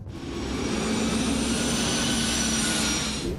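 A Bombardier Challenger 604 business jet roars steadily and loudly, a sustained broadband engine whine with a faint tonal hum, as if heard close by on the ground or from inside.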